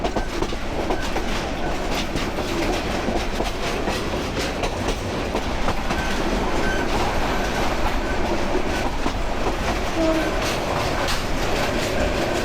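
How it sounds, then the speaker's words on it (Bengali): A train runs near Tejgaon railway station in Dhaka, making a continuous rumble with rhythmic wheel clatter and occasional squeals, steady and fairly loud throughout, without voices. "সামনেই তেজগাঁ রেলওয়ে স্টেশন"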